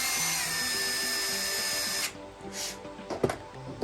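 A power drill whines steadily for about two seconds as a 2.5 mm bit bores through a 1/14-scale conveyor belt part, then stops, followed by a few light handling knocks.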